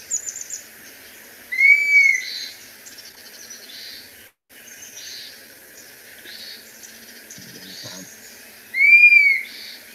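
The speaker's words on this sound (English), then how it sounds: "So it's just kind of that plaintive whistle." Played recording of a dusky-capped flycatcher's plaintive whistle call, southeastern Arizona: two clear, drawn-out whistles several seconds apart, loud against a faint background of insects and other birds.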